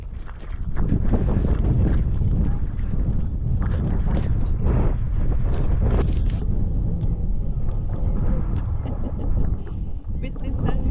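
Strong wind on a beach on the Isle of Lewis in the Outer Hebrides buffets the microphone in a loud, constant roar that runs without a break and covers any other sound.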